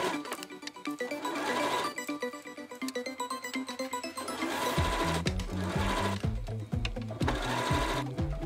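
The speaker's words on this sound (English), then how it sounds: "We're going to stitch using 1/4 inch seam allowance, and we're not going to sew the bottom," Sewing machine stitching a seam with a quarter-inch allowance on a knit tie-front bell-sleeve crop top, running continuously and close with a rapid mechanical chatter, under background music.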